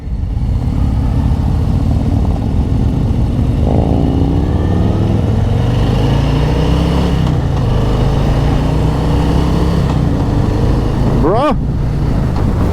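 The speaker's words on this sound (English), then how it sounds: "Right there is where you feel that rumble." A 2023 Harley-Davidson demo motorcycle rumbles loud and close with a deep, steady engine throb that swells as it revs, while people talk over it.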